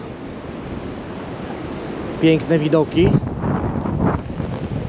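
Storm wind buffets the microphone while waves break along the shore in London, a rough continuous rush of noise. Someone speaks briefly over it midway.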